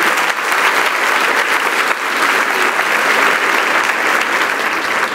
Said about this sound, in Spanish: Y suéltele un aplauso a Dios con todo su santo corazón.